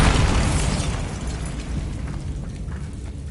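A Bombarda spell goes off in Hogwarts Legacy as one loud, close explosion with a heavy low boom that slowly decays into rumbling debris.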